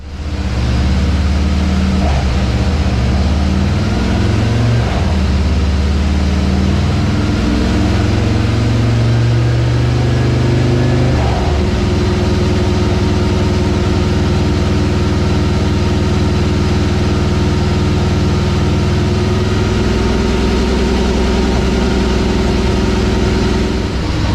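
A Milwaukee-Eight 124ci engine in a Road Glide motorcycle runs on a dyno, loud and close, idling with a deep throb, then climbing through repeated revving pulls with no voices.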